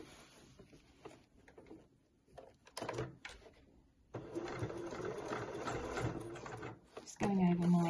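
A sewing machine stitches over existing seams on a fabric clutch bag in short bursts of buzzing, separated by quiet gaps and handling clicks, with a louder stretch of run near the end.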